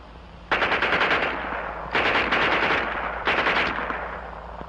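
A German MP 40 Schmeisser submachine gun fires three short bursts with individual shots audible in a fast, steady rattle, loud and close.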